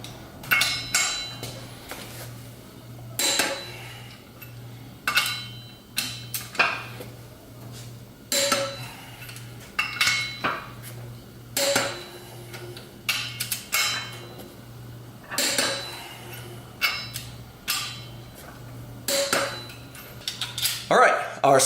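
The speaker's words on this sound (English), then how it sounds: "Now I'll get my torque wrench here, and we will set it to 81 foot-pounds. And we'll torque these down in a star pattern." Torque wrench set to 81 foot-pounds tightening front sprocket bolts in a star pattern on a BMW S1000RR track bike: sharp metallic clicks at fairly regular intervals over a low steady hum, close by, with no talk.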